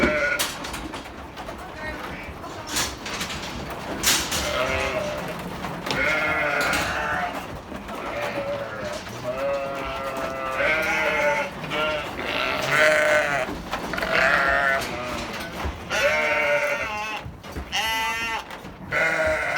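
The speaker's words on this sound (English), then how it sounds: "So that's sheep and lambs down the race now." Sheep and lambs are sorted down a race on a farm, with many overlapping bleats and cries at close and middle distance. The calls are loud and continuous, and a few birds call in among them.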